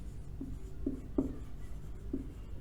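Chalk or marker taps and scratches on a classroom board as programming syntax is written out. The strokes are faint, short and spaced out, in a quiet room.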